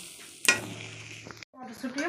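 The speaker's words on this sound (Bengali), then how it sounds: "সামান্য মটরশুঁটি বেশি ভাজলে হবে না হালকা করে সামান্য এক দুবার নেড়ে নিচ্ছি" Green peas lightly fried in a pan for vegetarian khichuri, stirred once or twice with a sharp scrape of the spoon followed by a steady close sizzle that cuts off briefly before resuming.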